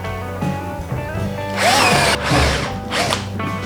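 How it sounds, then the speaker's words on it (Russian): A power drill bores a hole through a solid hardwood cutting board for a jigsaw blade, whining up in two loud bursts between lower idling motor hum. "Сверлим отверстие под лобзик на следующей доске."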